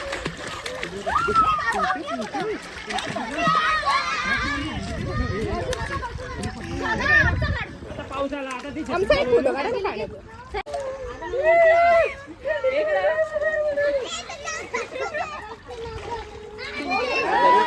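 Children splash and play in a resort swimming pool in the evening, constant excited kids' voices and shouts over water splashes and movement, lively and close throughout.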